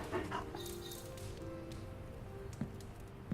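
Large muscular dog in the video game Midnight Suns making short whimpering yips and soft barks over a low background hum, fairly faint.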